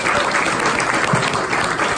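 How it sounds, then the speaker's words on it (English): Audience applause at a Long Beach Century Club meeting, steady, dense clapping from a crowd in a room, sustained and fairly loud throughout with no talk. "So round of applause for Rob Wigod"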